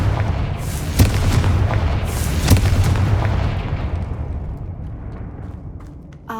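A Confringo fire spell bursts in the Hogwarts Legacy video game, a heavy booming blast followed by a second thump and rumbling roar that gradually fades out, no talking.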